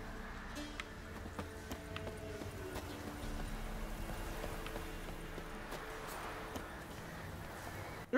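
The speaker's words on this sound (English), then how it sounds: "You're such a ridiculous horse." Horse hooves clip-clop steadily in The Witcher 3, a moderate, continuous patter of steps over faint game ambience, with no talking.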